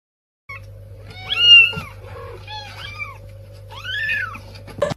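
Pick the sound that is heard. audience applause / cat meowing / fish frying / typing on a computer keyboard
cat meowing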